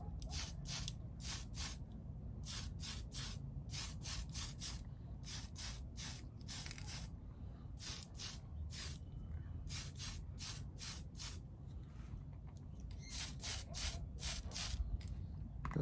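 Short bursts of spray paint misting a light first coat onto parts of a Revell 1937 Ford pickup model kit, quick hissing puffs repeated in irregular clusters over a low, quiet background hum.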